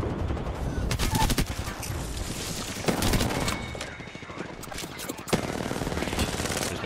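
Rapid automatic gunfire in the Apex Legends video game, dense bursts of shots with a few sharper loud cracks, continuous and close for the whole stretch.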